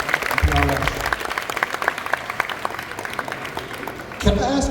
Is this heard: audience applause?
yes